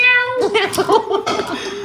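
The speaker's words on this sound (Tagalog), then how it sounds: "may pusa dito" A cat meows in a drawn-out, wavering call close by, overlapping with people talking and laughing during a card game.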